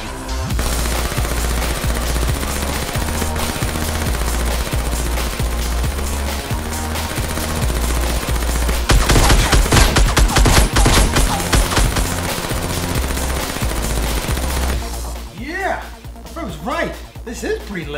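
An old Nerf blaster fires rapidly, with a fast run of snapping shots over loud background music, ending in a brief clatter before the music drops back.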